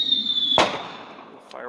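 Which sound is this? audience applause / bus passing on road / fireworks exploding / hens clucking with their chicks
fireworks exploding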